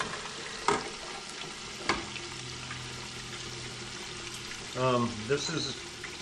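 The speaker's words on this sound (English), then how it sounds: "So I'm going to let these fry." Chicken thighs fry in a deep fryer with a steady low bubbling hiss, broken by a few sharp clinks and scrapes, with a short burst of voice near the end.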